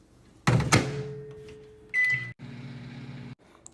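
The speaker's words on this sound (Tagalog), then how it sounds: "Tapos i-microwave." Microwave oven heating a chocolate and peanut butter mixture: a door thunk, then a steady hum with a brief beep in the middle before the running sound cuts off, close and alone.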